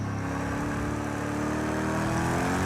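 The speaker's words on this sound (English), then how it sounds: "You can probably hear the engine's not quite as angry as as I would expect." A racing car's engine from Project CARS 2 hums steadily at moderate revs under light throttle, its rising harmonic tone fairly close and continuous with no talking.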